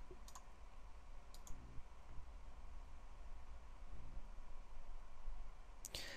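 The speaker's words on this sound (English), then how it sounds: "I'm just going to click OK" A computer mouse clicks a few times, faint and sparse, with soft single and double clicks against a quiet background hum.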